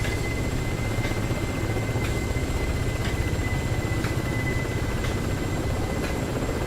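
Apache and Ka-50 attack helicopters in the DCS World flight simulator, a loud steady rotor drone with regular blade thumps roughly once per second, continuous and close, with no talking.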